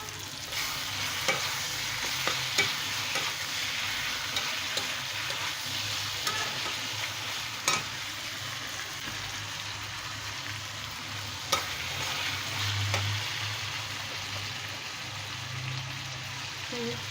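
Garlic paste stir-fried in a pan, a steady, moderately quiet sizzle with occasional sharp scrapes and taps of a utensil stirring against the pan.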